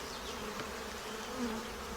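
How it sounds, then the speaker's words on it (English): Honeybees buzz around an opened backyard hive, a soft, close, continuous hum with a faint rising drone near the end. "you can see a bee there with its pollen on its pollen baskets"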